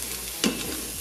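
Cumin and other seasoning toast with onions in an Instant Pot, giving a soft continuous sizzle with a brief stir or scrape near the middle.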